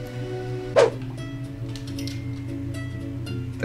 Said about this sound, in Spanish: Se llama Kevin el perro